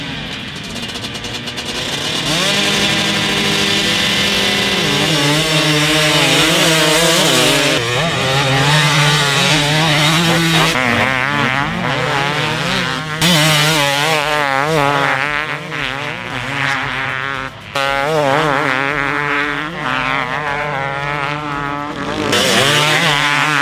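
Two-stroke dirt bikes, a 2023 KTM 300 and a Husqvarna 250, ridden head-to-head at Glen Helen, their engines buzzing loud and close with rising and falling revs and shifts throughout, a brief voice near the start.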